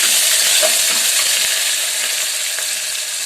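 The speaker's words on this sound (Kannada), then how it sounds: "ಇವಾಗ ಹೆಚ್ಚಿಟ್ಕೊಂಡಿರೋ ಹಸಿಮೆಣಸಿನಕಾಯಿ ಅದನ್ನು ಚೆನ್ನಾಗಿ ಮಿಕ್ಸ್ ಮಾಡಬೇಕು" Chopped green chillies sizzling loudly in hot oil as they are stirred, a close, steady frying hiss with a few light utensil scrapes.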